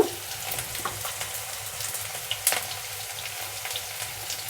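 Onions frying in a pan for cabbage curry, a soft continuous sizzle with light stirring taps and a faint low hum underneath.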